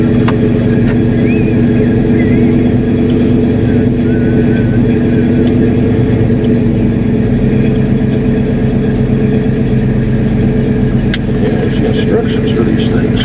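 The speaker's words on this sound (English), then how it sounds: "Since we gotta let the truck warm up for a minute or two." A pickup truck's engine idles steadily while warming up, a continuous low rumble that stays loud and even from start to finish with no revving.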